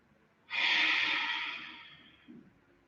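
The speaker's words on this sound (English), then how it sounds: "Breathe deeply." A single deep exhale during yoga practice, a close, breathy rush that starts abruptly, then slowly fades over about a second and a half, followed by a faint soft breath.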